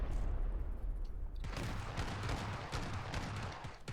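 Gunfire and muffled booms in a survival video game, with a burst of crackling shots starting partway through and continuing in a busy, rough volley.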